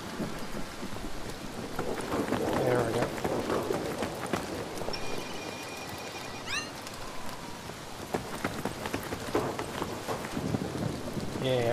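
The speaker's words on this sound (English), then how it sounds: "Rain on my screen." Steady rain pours across a stormy scene in the video game Syndicate, with rumbles of thunder mixed into the dense, continuous hiss and some game effects and faint voices layered over it.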